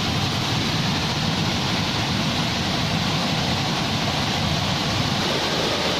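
Heavy, torrential water pours over the Temurun falls in the Anambas Islands, a continuous full-bodied roar, close and loud, holding steady throughout with no voices over it.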